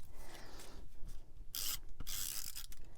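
Sandpaper rubbing along the edges of dark Harbour cardstock, a close, dry rasping scrape in a few repeated strokes with brief pauses between, no talking.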